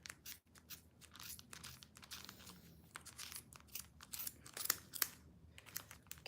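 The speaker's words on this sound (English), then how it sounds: "we will grab a pair of sharp scissors and cut through the channel" Sharp scissors cut through the channel of a yarn pompom for a Christmas garland, making a close run of crisp, crunchy snips and rustles of fibre, each cut short and uneven in rhythm.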